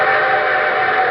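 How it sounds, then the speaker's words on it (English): A steady, sustained train whistle blows loud and alone for a moment, introducing a radio show's train segment. "And here comes our star-studded show train."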